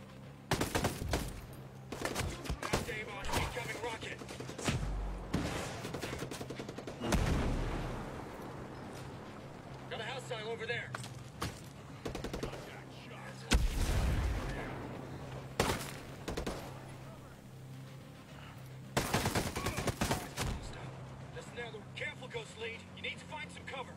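Guns fire in a video game: several loud, rapid volleys and single booming shots break through at intervals, with a player talking between and over the bursts.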